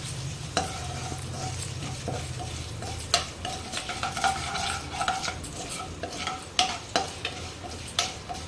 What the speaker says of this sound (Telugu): ఈ గోంగూర పచ్చడి అందులో వేసేసి కలిపేద్దాం